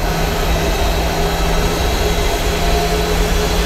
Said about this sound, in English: there's the engines firing up